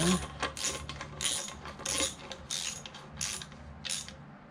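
A ratchet wrench clicks in short bursts of rapid ratcheting, close and fairly quiet, while bolts on a 1967 Corvette timing chain cover are snugged down in a cross pattern.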